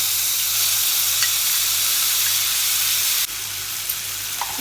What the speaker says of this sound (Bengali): মশলাগুলো আমি পেস্ট বানিয়ে রেখেছিলাম সেগুলো দিয়ে দিচ্ছি কড়াইতে